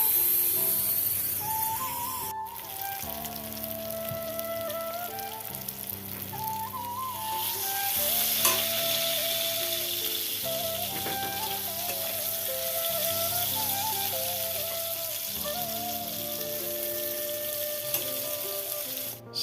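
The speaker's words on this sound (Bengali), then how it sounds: "আলু ভাজার জন্য কেটে নিয়েছি, আলু ভাজা হবে" Cut potatoes fry in a pan on a gas stove, giving a steady close sizzle and bubbling hiss with faint clinks and stirring, while a melodic tune plays softly in the background.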